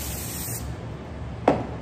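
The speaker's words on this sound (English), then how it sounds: "you're gonna wanna spray your chicken real fast with some oil" A quick burst of cooking oil spray hits breaded chicken tenders at an air fryer, one short sharp hiss rising out of a steady background hum near the end.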